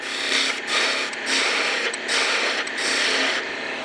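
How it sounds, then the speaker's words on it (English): A 3/8 inch spindle gouge cutting a wooden twig vase blank on a lathe gives a steady, close, hissing shear in long continuous passes, with brief dips between cuts and no talk. "Now I've got a 3/8 inch spindle gouge here."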